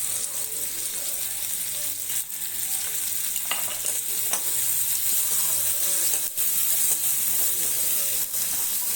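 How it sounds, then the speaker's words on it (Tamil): Green chilies with a pinch of salt sauté in a pan for an eggplant chutney, a dense, steady hissing sizzle held close and loud throughout, with a few faint utensil taps. "பச்சை மிளகா இதை வதக்கிக்குவோம்"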